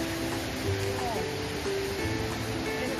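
A waterfall and river rush in a constant, dense roar of water, with excited people talking and exclaiming over it in a forested setting.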